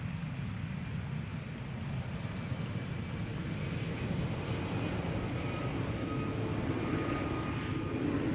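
A KLM Embraer 195 E2 arriving from Dublin on the Polderbaan runway at Amsterdam Schiphol, its distant engine rumble a low, steady broadband roar that builds gradually with no one talking.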